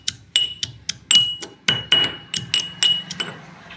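A small hand mortar and pestle is used to lightly crush ingredients, making about a dozen sharp, ringing knocks in an uneven rhythm. The knocks are close and clear, with no talking.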